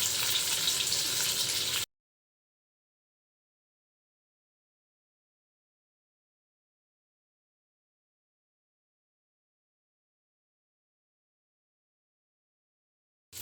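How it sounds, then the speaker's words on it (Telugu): Chicken frying in a pan gives a short burst of close, steady sizzling, then the sound cuts to silence. "ఇంకొక పక్క చికెన్ ఫ్రై అయితే అవుతుంది"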